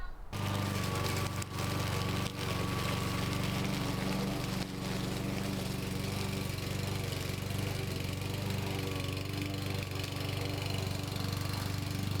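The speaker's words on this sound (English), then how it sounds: "we're gonna go now and just do a little bit of mowing here" A lawn mower runs steadily and loudly, cutting fall leaves along with grass, its engine drone constant and close from start to finish with no talk over it.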